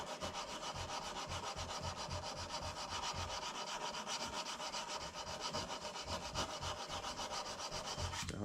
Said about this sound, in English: Out here doing the same thing, sanding away.